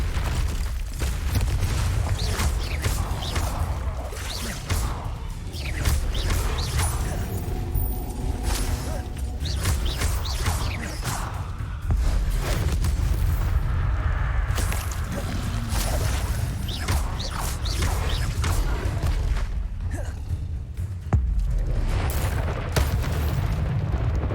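Confringo blasting spells exploding during combat in the Hogwarts Legacy video game: repeated loud, heavy booms and bursts, one after another, over a dense rumble of spell effects that runs without a break.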